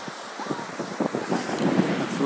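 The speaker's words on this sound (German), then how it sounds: "Strand angekommen." Seaside beach at Cervia on Italy's Adriatic coast, with steady wind buffeting the microphone over a soft wash of surf and a few short rustling thumps close by.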